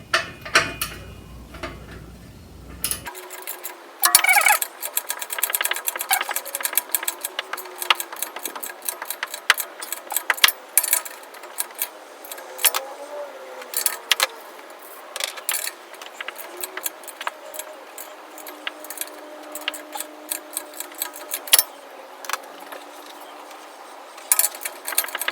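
Ratchet wrench clicking rapidly in repeated bursts while reassembling parts on a Honda Civic 8 silencer, close metallic ticking with brief clanks and pauses throughout.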